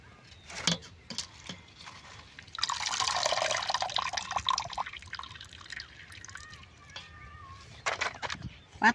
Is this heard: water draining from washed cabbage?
yes